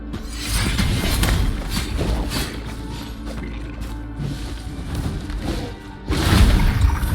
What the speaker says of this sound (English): just basically used the seismic explosion to kill his ass